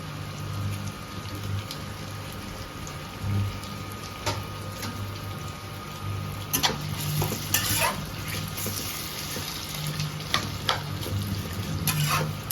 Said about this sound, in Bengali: সব পেঁয়াজগুলো আমরা গরম সর্ষের তেলের মধ্যে দিয়ে দিলাম।